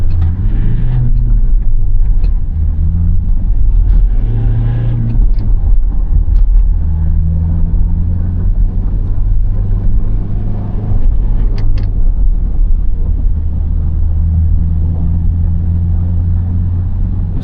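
Toyota Innova Crysta in power mode with traction control off, accelerating hard from a standstill in first gear: a loud, steady engine drone with low rumble that holds throughout, no talking over it.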